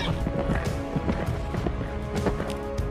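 A horse runs off in a film scene near a desert shore, rapid hoofbeats clip-clopping in a quick rhythm over a layered music score.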